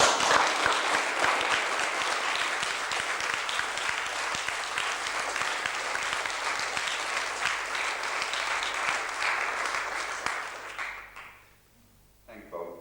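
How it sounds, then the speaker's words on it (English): Tremendous, sustained applause for the League of Friends at a hospital gathering, a thick wash of clapping from a large crowd lasting about ten seconds before fading quickly, with voices mixed in as it dies away. "I'd like you to show your appreciation by tremendous applause for the League of Friends."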